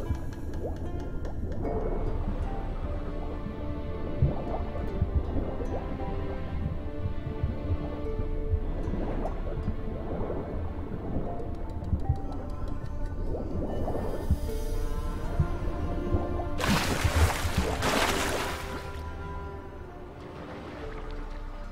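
A character swims through a flooded chamber in The Witcher, with soft sloshing and gurgling water strokes repeating over a steady low ambient bed and a brief brighter splash burst near the end.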